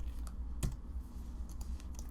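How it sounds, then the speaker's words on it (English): Several sharp key presses on a computer keyboard, a few isolated clicks spread across a couple of seconds over a steady low room hum, with no talking. "I'll hit F on the keyboard"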